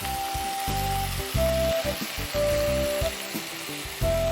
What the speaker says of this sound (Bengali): এবার টমেটোটা যতক্ষণ না মজে আসছে হ্যাঁ। ততক্ষণ পর্যন্ত তা কষাতে হবে।